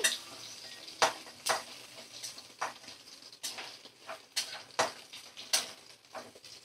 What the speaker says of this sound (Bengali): পেঁয়াজ দিয়ে একটু ভালো করে আমি নাড়াচাড়া করে নেব 2 থেকে 3 মিনিট